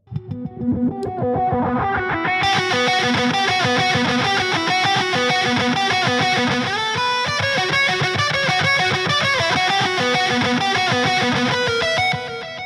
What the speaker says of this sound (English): we have the main lead here with a echo and a swell